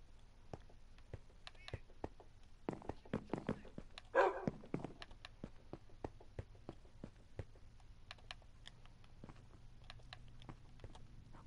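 A video game dog barks in a short burst of several yelps near the middle, with sparse clicking and tapping around it and a low steady hum underneath.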